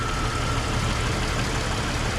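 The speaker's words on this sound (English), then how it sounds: "This is how the vehicle is running now. If you notice, it's not surging anymore like it used to." A Jeep engine fitted with a new crank sensor idles steadily, a loud, even, continuous rumble without surging, heard close up with no talking.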